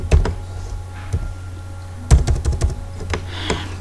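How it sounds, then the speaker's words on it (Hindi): A name is typed on a computer keyboard while writing a Python program, giving close, irregular key clicks in small bursts with brief pauses, with no voices. "सिंपल डबल कोट्स में टाइप कर दिया अपना नाम"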